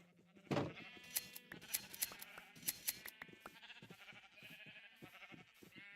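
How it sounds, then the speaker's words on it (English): Sheep in Minecraft bleat several times in short, close calls, with game sounds and faint clicks between them. "Hello, green sheeps."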